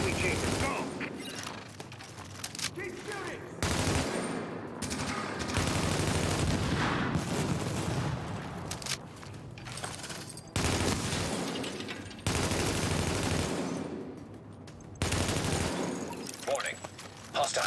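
Sustained gunfire in a video game battle, loud dense volleys with abrupt cuts and heavy booms, mixed with shouted voices throughout.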